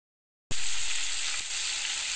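Mustard oil sizzles and hisses steadily in a kadai over a gas flame, starting abruptly after a short silence and holding a bright, even frying crackle close up, with no talk.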